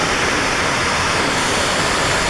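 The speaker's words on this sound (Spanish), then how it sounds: "Mira eso, como cae el agua" Powerful water pouring down a waterfall, a loud, constant roaring rush that fills the sound completely without a break.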